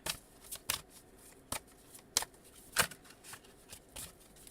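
Tarot cards are riffled and shuffled in quick, irregular bursts, each a soft papery flutter, close up and fairly quiet.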